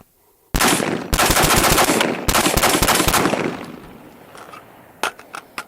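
Radical Defense MK1 Mod 1 patrol rifle with a 14.5-inch barrel fired outdoors, a fast string of loud sharp shots in two bursts with brief pauses, ringing out before a few scattered quieter pops.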